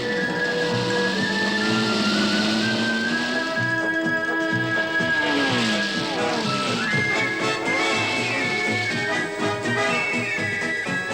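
1967 Formula 1 cars race at the British Grand Prix, their high-pitched engine wails rising and falling as they pass. The whine is sustained and layered, with pitch sweeps as the cars accelerate, heard through a thin, dated recording.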